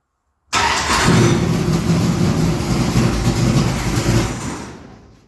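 A cold late-model race car engine fires after a brief silence and bursts into a loud, rough, close-up roar that slowly fades toward the end.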